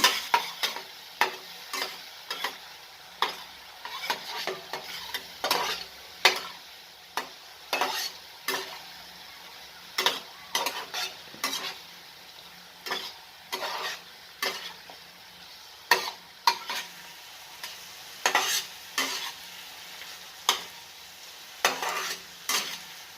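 Cauliflower and spices fry in a pan while being stirred, a soft continuous sizzle broken by repeated sharp scrapes and clinks of the spoon against the pan at a steady, unhurried rhythm, with no talking.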